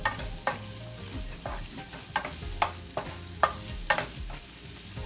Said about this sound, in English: My pan is hot. Let's add the olive oil and let's add the onion.